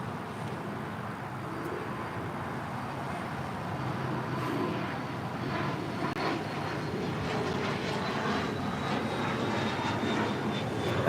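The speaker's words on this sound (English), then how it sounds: "That is American Airlines 1039 coming in from a hot Dallas Fort Worth on a 777-200ER" An American Airlines Boeing 777-200ER arriving from Dallas Fort Worth at LAX, a steady jet roar swelling gradually louder over about eleven seconds as it approaches, with no voices.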